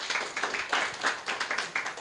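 A church congregation claps its hands together in a steady, rhythmic beat, at moderate volume and from a short distance, with no talk over it.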